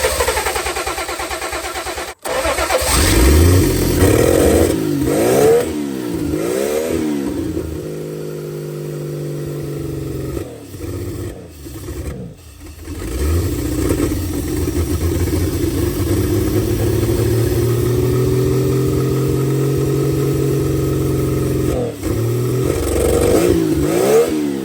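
A turbocharged Aces Killshot Classic engine starts with a rough catch, then revs in loud repeated throttle blips before settling into a steady, high running drone, all close up with no talk.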